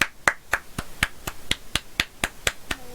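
Applause for the winner of a game on a talk show comes as evenly spaced, crisp hand claps, about four per second, sharp and close with quiet gaps between.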